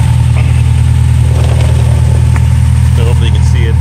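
A Jeep JK with a 392 Hemi V8 idles through a custom 3-inch true dual exhaust with an X pipe, a loud, steady, deep rumble close by, with a voice speaking briefly over it.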